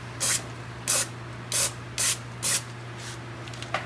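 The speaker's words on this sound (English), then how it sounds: "All right, little test spray." Aerosol spray paint goes onto Mustang V6 brake calipers in five short, even bursts of hissing, close and loud, each about a quarter second long with brief pauses between, over a low steady hum.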